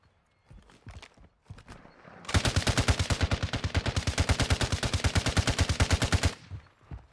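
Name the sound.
gunfire from the video game Modern Warfare 2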